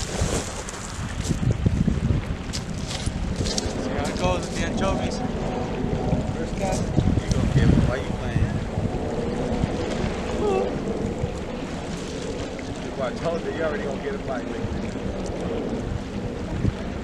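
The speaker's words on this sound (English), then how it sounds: "Got windy all of a sudden." Strong wind at Lake Mead buffets the microphone in a constant roar, with boat and water noise beneath it and voices talking over it.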